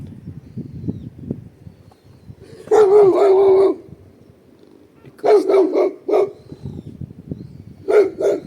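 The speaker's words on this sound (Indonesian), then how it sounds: "Ada guguk." A dog barks in loud bursts: a sustained volley, then a rapid run of barks, then one more short bark, with quiet rustling between, on an orange farm in Japan.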